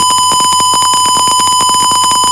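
A loud synthetic alarm from a coded Oracle wake-up program sounds continuously in fast, regular electronic pulses, steady and close with no other sounds.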